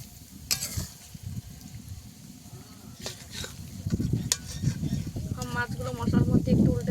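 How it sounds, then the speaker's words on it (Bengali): Pangas fish is gently stirred and turned while frying in a pan, giving soft sizzling with scraping stirs that grow busier toward the end. "ভালো করে আমি একটু কষাবো মাছটাকে, তাহলে আলতো হাতে কষাতে হবে।"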